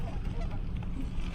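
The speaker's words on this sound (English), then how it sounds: "waterfowl, ducks, geese," Geese honking at a park pond full of ducks and other waterfowl, a steady low chatter of calls at moderate distance over outdoor ambience, with no voices.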